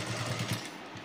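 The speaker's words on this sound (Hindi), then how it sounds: "देख सकते हो इस तरह से आप देख के सिलाई लगाएं।" A sewing machine stitches piping onto fabric, giving a short run of rapid, rhythmic mechanical pulses at close range with no talking.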